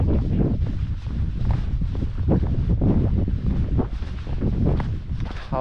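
Gusty wind on Cadair Idris buffeting the microphone, a continuous loud rumbling roar with fluctuating intensity and no speech.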